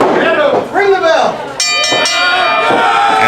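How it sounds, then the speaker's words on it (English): A pro wrestling ring bell clangs a couple of times after a pinfall on a televised wrestling show, following loud commentary from an announcer. "Ring the bell."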